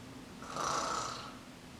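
A person imitates a soft snore during a breathing exercise: one gentle, breathy snore lasting about a second, rising and fading, heard close and alone.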